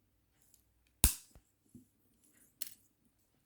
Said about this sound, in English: And I'm going to cut this wire.